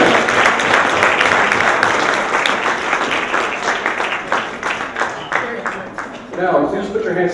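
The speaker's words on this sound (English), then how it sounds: "Let's give a big round of applause to Robbie's parents and Jessica's parents once again." Loud, sustained applause from a crowd during wedding speeches, dense clapping that gradually thins out, with a voice emerging near the end.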